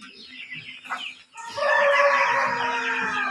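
Young chickens, older chicks around fifty strong, clucking and cheeping in a farm pen, a steady busy chorus that grows louder and fuller after a brief lull.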